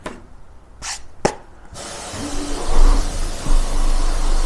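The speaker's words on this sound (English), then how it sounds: "that is a noisy truck" A construction truck parked on a residential street near a house being built, rumbling loudly with a rising engine roar and hissing noise after a few sharp clanks, nearby and dominant.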